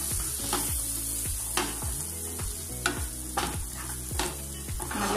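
Masala for chicken dum biryani sizzles in a pan while a spoon stirs it, with scrapes and clinks repeating roughly every half second over a constant frying hiss, close by.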